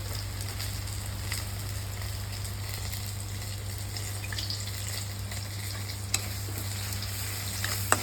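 Fish gravy with a pinch of pepper powder sizzles steadily in a pan, a continuous frying hiss with faint scraping stirs and a couple of sharp clinks near the end, no talking.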